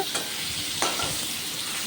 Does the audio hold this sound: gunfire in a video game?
no